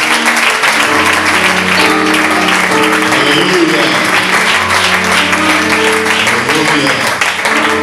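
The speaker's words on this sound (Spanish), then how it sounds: "Vamos a recibir un fuerte aplauso a la palabra." Congregation applauding during a Spanish-language church service, a dense, steady wash of clapping over sustained music and voices, with someone calling out over it.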